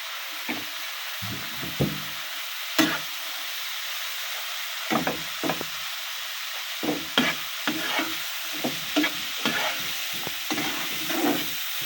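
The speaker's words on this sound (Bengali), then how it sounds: "আমি এবার শাকটা দিয়ে দিচ্ছি" Red amaranth greens for a pickle being stirred and fried in a pan, with a quiet sizzle broken by repeated scraping stirs that come in short, irregular bursts, close and fairly loud.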